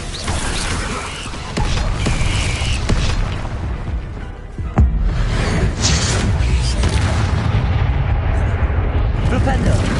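Dense, continuous magical combat from Hogwarts Legacy as the Expelliarmus disarming spell is cast, loud booming bursts and crackling impacts layered over each other for the whole stretch, with a sharp hit near the middle.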